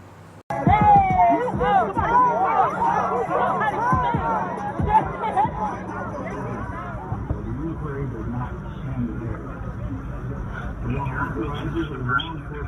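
A crowd in Ferguson reacting to news, with loud overlapping voices, shouts and chatter up close at first, settling into a continuous murmuring hubbub.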